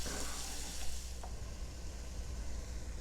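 Ground bison meat cooking in a pan for chili, a steady, moderately quiet sizzle with a broad hiss throughout and no other sounds standing out.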